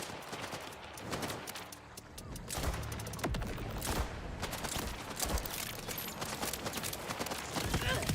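Rapid gunshots crack close by in dense, overlapping bursts, a near-continuous volley of sharp loud reports that barely lets up over eight seconds, with a brief quieter lull near the start.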